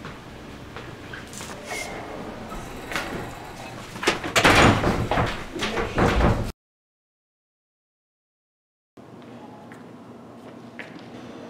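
A door slides and bangs with a rattling, scraping rush building to a loud burst of clatter, then cuts to silence before faint room noise returns.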